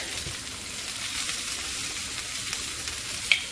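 Eggs sizzle steadily in a hot pan, a continuous crackling hiss with a small sharp pop near the end.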